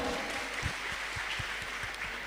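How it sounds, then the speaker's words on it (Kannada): An audience at a Ganesha Fest 2022 quiz event in Puttur gives a continuous, moderately distant round of applause. The claps are steady and even throughout. "ಜೋರಾದ ಚಪ್ಪಾಳೆ."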